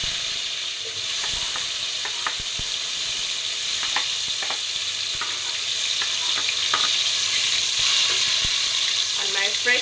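Onion fries in hot vegetable oil in a pot over a fire, giving a steady, close hiss of sizzling with scattered crackles and pops throughout.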